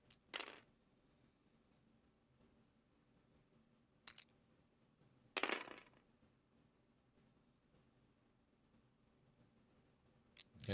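Three dice rolled onto a table during an X-Wing miniatures game, heard as a few sharp clattering bursts spread apart, with one longer rattle in the middle, against a quiet room.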